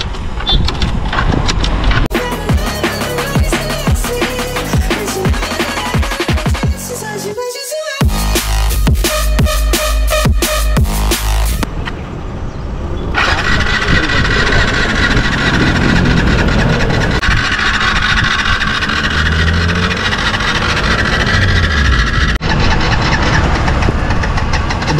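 An Aprilia scooter that has broken down is cranked and tried, its engine turning over and knocking loudly up close in repeated attempts with abrupt stops and restarts.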